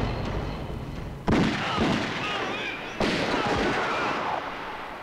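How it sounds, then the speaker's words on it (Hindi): Gunfire cracks out in two sharp loud bursts followed by rolling echoing noise, with shouting voices mixed in beneath the shots. "तुमने हम पर गोलियां चलाई, अपने साथियों पर?"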